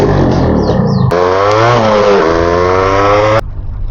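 A motorcycle fitted with an aftermarket silencer, which has trouble starting in the morning, fires up close by and revs in a loud, raspy burst that rises and settles before cutting off abruptly.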